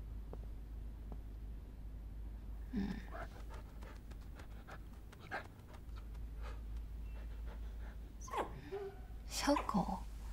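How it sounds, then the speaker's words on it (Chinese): A small dog whimpers and pants in short, faint bursts indoors, with a steady low hum underneath and people speaking nearby. "小狗"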